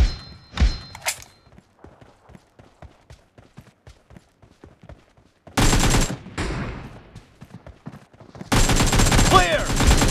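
Gunfire in a shooter video game: a single sharp shot, then a run of light rhythmic thuds like footsteps, and later two dense stretches of rapid automatic fire, loud and close, with voices calling out briefly.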